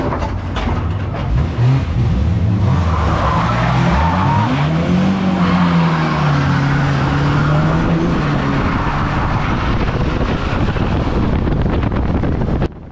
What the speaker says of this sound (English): I get clipped off them coming off the wall and I get put straight in the wall.